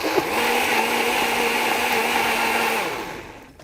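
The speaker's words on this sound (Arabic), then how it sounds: "الاول انا دوبت السكر في الميه في الشفشق بتاع الخلاط الاول قبل ما احط الليمون، وبعدين حطيت الليمون وافضل اضربه" A kitchen blender whirs steadily up close, blending sugar dissolved in water with lemon, a loud continuous motor drone with a stable pitch that runs about three seconds before winding down.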